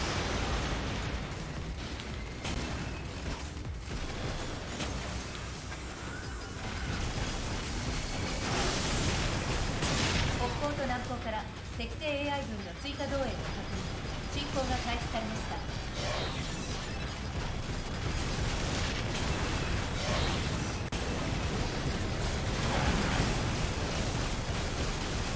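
A barrage of grenade explosions and crashing debris in the robot combat game Daemon X Machina, a dense, continuous roar of blasts and shattering noise that stays loud for the whole stretch.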